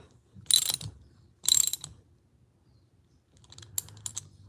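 A ratchet tightens a part with two quick bursts of clicking close by, followed by a lighter spell of clicks and knocks after a pause.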